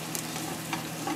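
Garlic and onion sautéing over high heat for pansit bihon, a brief dense sizzle with soft stirring scrapes close by and no voices.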